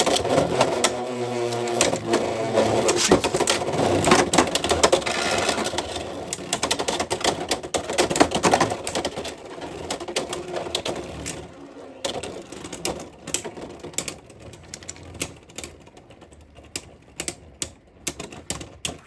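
Beyblade X spinning tops, Meteor Dragoon among them, are launched and clash in a stadium with dense rattling and clicking collisions that thin out into scattered sharp hits as the spin dies down.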